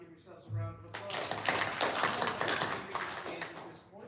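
Spelling bee participants break into brief applause, a burst of scattered clapping that swells and then fades, with voices mixed in.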